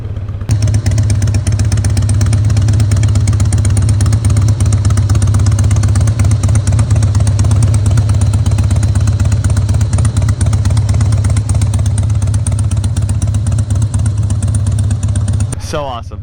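A 2004 Harley-Davidson Softail with a twin cam engine runs steadily while being ridden, giving a loud, continuous low-pitched rumble that holds for about fifteen seconds before cutting off, with a voice talking over it.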